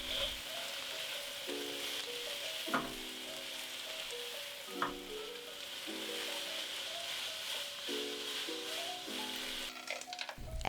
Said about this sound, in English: Add it to the pan and quickly stir fry the mixture.